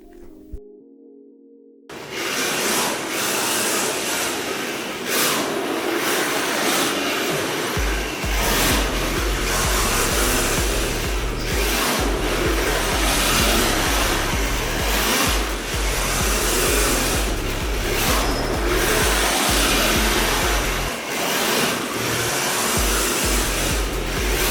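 An RC drift car runs a large figure 8, its small motor whining loudly and continuously while the pitch rises and falls through the turns.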